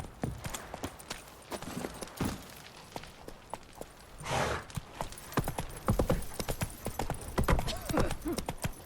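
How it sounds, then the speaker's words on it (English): Horses walk in the video game The Witcher 3: Wild Hunt, with a steady series of hoof clip-clops on hard ground, an occasional snort or whinny, and soft, fairly close footfalls that grow busier toward the end. "Time to water the horses."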